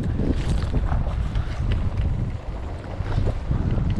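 Strong wind on a fishing boat off Japan during grouper fishing, a loud, continuous buffeting roar against the microphone with rough gusts rising and falling.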